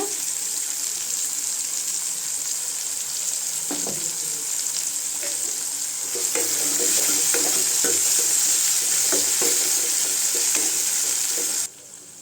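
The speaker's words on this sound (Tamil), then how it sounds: "வெங்காயம் வதங்கிடுச்சுங்க தக்காளி சேர்த்துக்கலாம் தக்காளி வதங்கிறது கொஞ்சம் உப்பு போட்டுக்கலாங்க" Onions and tomatoes frying with salt in a pan for potato curry, a loud steady sizzle with scattered stirring scrapes, close up, growing slightly louder partway through.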